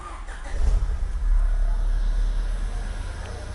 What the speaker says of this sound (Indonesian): Jadi kita akan cek hidupin mesinnya,